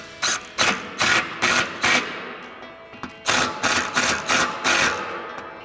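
Repeated bursts of a ratcheting tool tightening running board bracket bolts with a 3/16 Allen socket on a RAM 2500 with Amp Research PowerStep boards, about ten short close clicking runs in two groups with a brief pause between.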